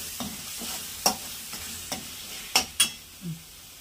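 Fish curry masala frying in oil in a pan for Tamil-style viral fish kuzhambu, stirred with a spoon that scrapes and knocks against the vessel in several sharp, irregular clinks over a steady low sizzle, close and with no talking.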